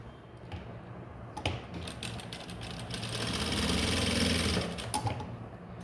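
Sewing machine stitching a blouse, a fast steady mechanical whir that rises and holds for a few seconds, with needle clatter and scattered clicks before and after, close and alone.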